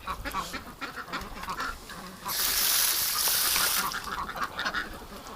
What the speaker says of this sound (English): there go ducks